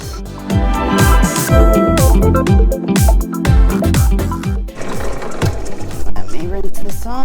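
A drill grinding a hole through glass for a handmade glass sunflower, a steady close whirring hum with repeated pulsing surges for several seconds, harmonics rising and falling as the bit is eased slowly through.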